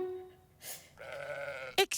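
A cartoon sheep gives a short bleat from a children's storybook episode, a wavering mid-pitched cry lasting about a second and ending in a brief sharp sound, with quiet background before it.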